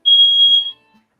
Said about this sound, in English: Okay, that was the alarm.